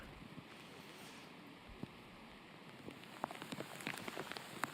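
Rain falling on a golf course fairway during a women's professional tournament round, a faint steady patter with scattered sharper drops growing more frequent toward the end, no voices.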